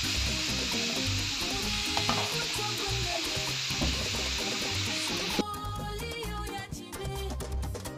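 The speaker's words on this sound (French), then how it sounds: "chicken, c'est cuit à la poêle" Chicken sizzles and fries in a pan, a continuous crackling hiss that cuts off abruptly partway through, leaving softer clinks and kitchen noise.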